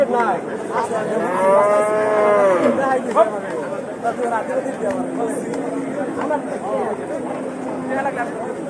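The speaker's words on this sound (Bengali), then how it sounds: "দুই দুইটা কালো গরু" At a livestock market, a black cow lets out one long, loud moo close by, then fainter lowing follows beneath busy crowd chatter and nearby talking.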